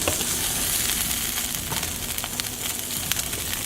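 Green beans frying in a little oil in a wiped-clean pan, a steady close sizzle with scattered crackles and pops throughout.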